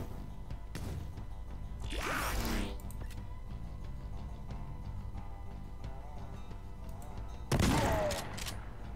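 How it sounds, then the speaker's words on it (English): Sniper rifle gunfire in the turn-based game Skyshine's Bedlam REDUX: two loud, sharp shot bursts, one early and one near the end, over a steady game ambience with a short crackle in between. "We can kill with a sniper."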